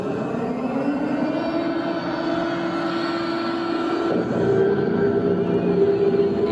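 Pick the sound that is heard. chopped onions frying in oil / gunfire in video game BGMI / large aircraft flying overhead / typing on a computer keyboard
large aircraft flying overhead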